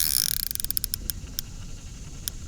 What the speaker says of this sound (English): How is the drag sound now on the new Ultegra, folks?